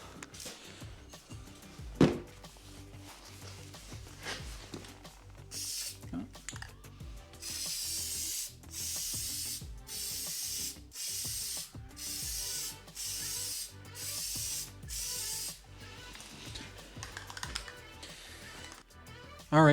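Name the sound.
spray painting coats on truck badges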